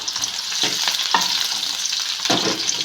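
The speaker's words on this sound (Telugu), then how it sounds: "ఒకసారి కలుపుకుందాం" A spoon stirs puffed rice with green chillies around a hot pan, giving scraping, rustling strokes over a light sizzle, with a few distinct louder scrapes close up.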